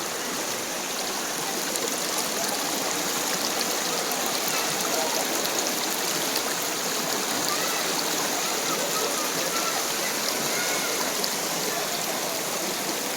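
A waterfall in Andhra Pradesh gives a constant, even hiss of falling and running water that holds steady at moderate loudness with no other sounds.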